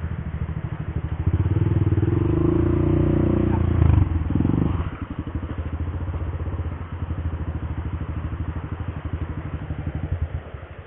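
Motorcycles pass along a road, their engines droning steadily and loudly up close, with a rougher, heavier engine surge partway through before settling back into a rhythmic idle-like chug.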